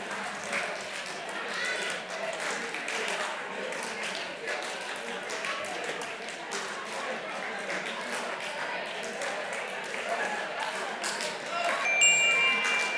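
A room of improv workshop participants counts aloud together, swapping one number for a single clap, so scattered claps recur in a loose rhythm under a dense wash of many voices.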